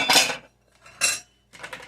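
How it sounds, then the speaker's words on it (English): Dirty bowls and dishes being stacked together in a kitchen sink, giving three close bursts of clattering, clinking ceramic, each lasting a fraction of a second with short pauses between. "making a lot of noise here, all the bowls together and stack them up the best way."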